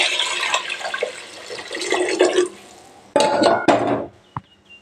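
Water is poured into a cooking pan while making paruppu sadam, a burst of splashing and pan clatter that fades, followed by two sharp metallic clanks and a final small knock.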